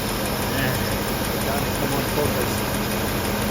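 A car engine idles on a rich mixture while not yet fully warm, a steady close rumble with faint irregular stumbles from misfires and a spark plug fouling slightly, as a voice talks briefly over it.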